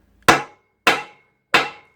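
A hammer delivers three sharp, evenly spaced taps on a socket, seating the head gasket of a Polaris 50cc two-stroke engine; each strike rings briefly and decays, close and loud with no talk.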